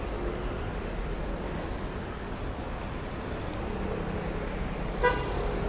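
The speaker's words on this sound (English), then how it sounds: "You can see the traffic's picking up here. It's louder." Steady street traffic rumbles throughout on a Paris street near boulevard Saint-Germain, with a brief car horn toot near the end.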